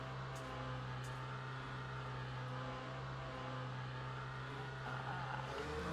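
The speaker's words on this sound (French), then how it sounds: "Le moteur se met en route." A Lamborghini V8 hybrid race car in Le Mans Ultimate at Imola runs at pit-limiter speed, its engine a faint, steady drone that swells slightly near the end as it kicks in.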